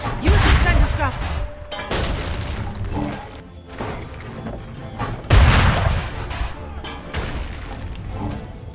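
Heavy booming cannon blasts in Assassin's Creed 3, one at the start and another midway, over continuous rumbling battle noise and game music.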